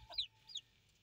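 A hen gives two short, sharp clucks in quick succession, close and fairly faint against a quiet background.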